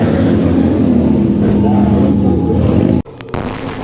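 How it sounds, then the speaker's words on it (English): Harley-Davidson motorcycle doing a simulated burnout at the Daytona Bike Week speedway event: a loud, steady, droning engine rev held for three seconds, then cut off abruptly, with a brief quieter murmur of voices or crowd after. "And here's a simulated burnout."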